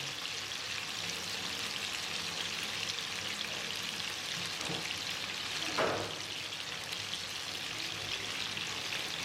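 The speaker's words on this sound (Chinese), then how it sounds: "把五花肉给它煎至焦黄" Steady, dense crackling sizzle of pork belly frying in a pan until golden brown, with a couple of brief louder spatters midway; no voices.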